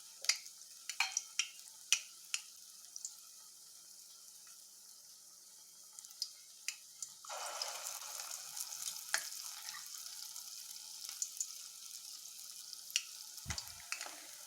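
Sweet dough balls and vada-shaped pieces frying in hot oil on low heat, a faint steady sizzle with scattered sharp pops and clinks, the bubbling growing fuller partway through.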